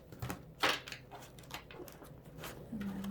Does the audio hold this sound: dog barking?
no